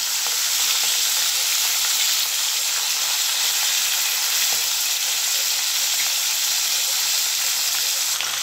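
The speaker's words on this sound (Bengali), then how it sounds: "মাছটা ভাজা হয়ে গেছে, এবার উল্টে দিচ্ছি" Khoyra hilsa fish fries in mustard oil in a kadai, giving a steady, loud, close sizzle with no gaps.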